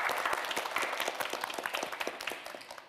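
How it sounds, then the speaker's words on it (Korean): An audience at a quiz show claps steadily for a student contestant, a dense, even patter of many hands that carries for several seconds and stays moderately far from the listener. "여러분, 권효정 학생에게도 큰 박수 보내주시기 바랍니다"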